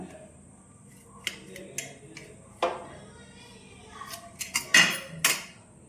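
A knife cuts a potato-stuffed bread cutlet into four pieces, giving scattered sharp taps and clicks on the board, several of them louder near the end, against a quiet kitchen background.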